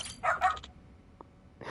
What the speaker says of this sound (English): puppy is super cute